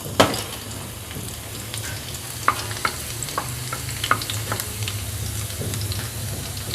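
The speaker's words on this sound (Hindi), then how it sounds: "अब हम इसका तड़का तैयार करते हैं।" Chopped garlic sizzles and fries in hot oil for a tadka, a steady close crackle with occasional sharper pops and stirring clicks throughout.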